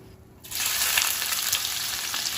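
Sliced onions drop into hot ghee and oil in a pan for mutton biryani: near silence breaks into a sudden loud, close sizzle that holds steady, with faint stirring and no talk.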